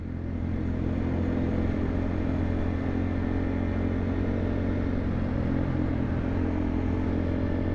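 Race car or motorbike engines at a racetrack near Ho Chi Minh City, Vietnam, a steady loud rumbling drone of motors running continuously throughout with no talking.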